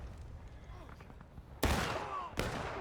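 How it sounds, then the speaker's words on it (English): Artillery and musket fire at a Civil War reenactment battle: two sharp, loud broadband blasts ring out over a noisy outdoor background of crowd murmur, the second shot following about a second after the first. "that was a nice shot from the artillery"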